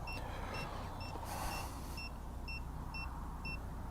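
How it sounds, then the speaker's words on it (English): Repeating electronic notification beeps from an EVERCROSS EV10K Pro e-scooter's indicator, a steady series of short, evenly spaced tones about every half second over a constant low background hum. "on this, there is a notification on the screen, and there is also a sound"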